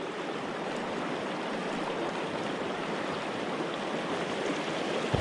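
Steady rushing river current on a cold autumn trout river, a continuous broadband wash of flowing water heard up close with no talking.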